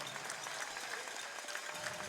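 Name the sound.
crowd applauding at ski race trophy ceremony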